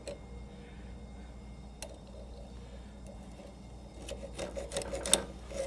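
A hand file scrapes across a chainsaw chain in a junkyard, with faint, scattered strokes that grow into a denser burst of rasping toward the end.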